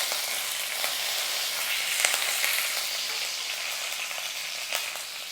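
Steady, loud crackling sizzle of curry leaves frying in hot oil with mustard seeds and urad dal, continuous and close, with occasional sharper pops.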